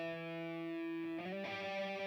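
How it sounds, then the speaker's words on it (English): Electric guitar in a home studio mix collapsed to mono, with phase cancellation leaving a thin, hollow, quiet remnant of the sustained distorted notes, heard alone. "it's phase cancelling out majority of the signal except for the component that's different"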